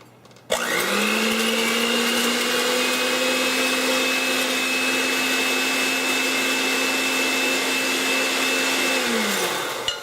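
An electric mixer whipping egg whites in a bowl switches on and runs at a steady loud whine for about nine seconds, then winds down and stops.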